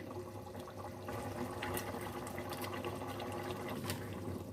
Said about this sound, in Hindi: देखें बॉयल आना शुरू हो चुका है